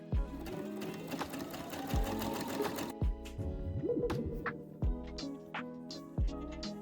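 Sewing machine stitching a double turn pin hem on an asymmetric draped skirt, a fast steady mechanical whirring run followed by short bursts and clunks, close and clear.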